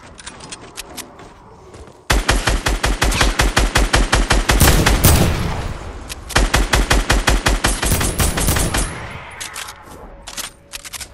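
A placed turret in Fortnite fires rapid, loud bursts of automatic gunfire, each volley a quick rattle of evenly spaced shots, with short pauses before the shooting trails off.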